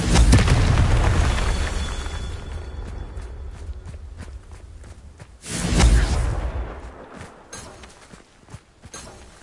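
Confringo fire spell explosions from Hogwarts Legacy gameplay, a loud booming blast at the start and another near six seconds, with scattered thuds and rumble fading in between.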